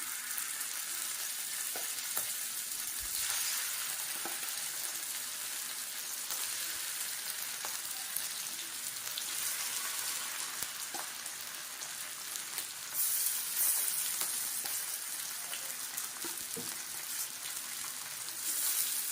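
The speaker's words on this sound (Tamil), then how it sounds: "நான் தோசை கல்லில் தான் வறுக்க போகிறேன்." Sardines fry on a flat dosa griddle, giving a continuous loud sizzle and crackle with a hiss like rain, steady throughout with occasional pops and no talking.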